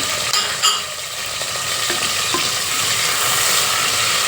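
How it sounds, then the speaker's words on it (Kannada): Tomatoes and tempering fry loudly in a hot pan, a constant crackling hiss with a few clinks of stirring near the start. "ಈಗ ಒಗ್ಗರಣೆಗೆ ಹಂಗೇ ಫ್ರೈ ಮಾಡ್ಕೋಬೇಕು."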